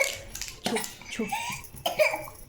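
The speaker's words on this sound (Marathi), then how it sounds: "खोकला येतो" A young girl coughs a few times in quick bursts during a pretend doctor game at home, close and fairly loud, mixed with childish voices and vocal sounds.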